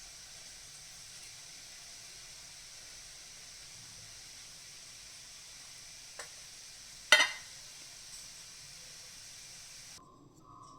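Cashew bondas frying in hot oil, a steady soft sizzle and hiss that runs throughout, with a couple of brief clinks of a utensil near the end.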